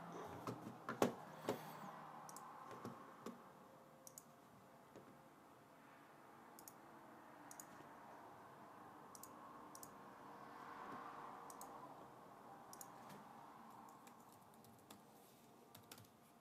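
Passwords being typed on a computer keyboard: quiet, irregular key clicks in short bursts over faint room hum, no voices.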